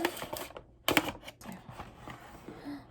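Quick bursts of clicky key taps, close and fairly quiet, with a short pause in the middle.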